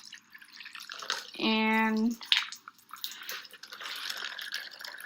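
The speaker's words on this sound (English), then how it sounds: "And then you're just going to pour the water over" Water poured from a cup over a small model of dirt and rock in an erosion lesson, a short pouring stream followed by dripping and trickling as it runs out, with a person speaking briefly around it.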